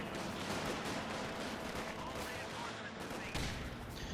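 Company of Heroes 2 battle with dense, continuous gunfire and explosions filling the soundscape, a steady loud roar of combat with brief bursts standing out near the end.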